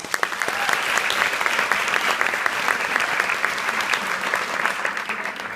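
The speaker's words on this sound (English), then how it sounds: "a round of applause for whoever wrote the bill" A girls state assembly audience gives a sustained round of applause, dense even clapping from many hands that holds steady throughout and fades slightly near the end.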